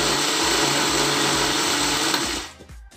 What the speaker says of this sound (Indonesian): Masukkan ke dalam blender dan tambahkan sedikit air. Lalu blender sampai halus.